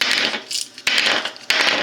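A frozen solid emergency drinking water packet is handled close up, with crisp crunching and clicking bursts repeating about three times in quick succession.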